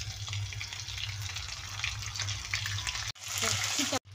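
Ginger-garlic paste added to a pan of fried potatoes, steady sizzling and crackle of frying throughout, briefly interrupted twice, with no voice over it.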